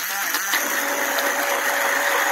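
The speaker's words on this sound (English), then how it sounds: "After scraping everything with a spoon off the blender, easy cleanup." A kitchen blender mashing refried beans whirs steadily at high speed, loud and close, with its motor tone holding constant and no speech.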